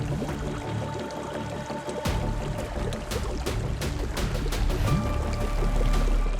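Water flowing and pouring inside a cave, a steady rushing wash that stays loud and close throughout, with no voices.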